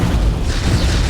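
A missile explodes in the space game X4 Foundations: a short, loud, dense low rumbling boom that fills the whole moment, with no talking.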